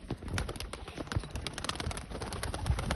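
Pigeons around their nest, with soft cooing and flapping or shuffling sounds, moderately close and steady throughout, no talking.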